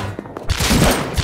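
Gunfire in the game Rust, a loud rapid burst of overlapping shots crowding together after a brief quieter lead-in.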